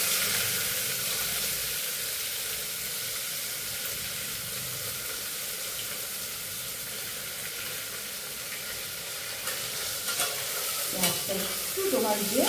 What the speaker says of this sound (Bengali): আমি পেঁয়াজটা ফ্রাই করে নিই, একটু ফ্রাই হবে।